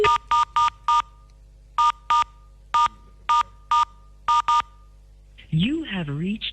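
Telephone keypad tones dialing out during a radio call-in show, a burst of four quick beeps, a pause, then several more evenly spaced beeps in pairs and singles, loud and clean, followed by a brief warbling tone at the end.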